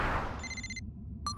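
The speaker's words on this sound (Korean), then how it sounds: "슈퍼패트한테서 전화가 온 거야?" A cartoon telephone rings with two short bright electronic trills, clear and close over a soft low background, with no talking.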